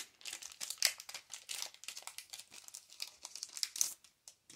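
A Pokemon Rebel Clash card pack wrapper being opened, with quiet, close, irregular crinkling and tearing of foil in short bursts.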